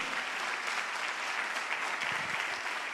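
Church congregation at an anniversary service applauding, a steady wash of dense clapping that holds at an even level throughout.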